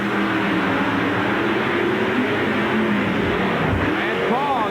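A 1990 monster truck roars steadily as it crushes cars at an arena event in Roanoke, its loud continuous engine note filling the scene, with a commentator talking faintly beneath.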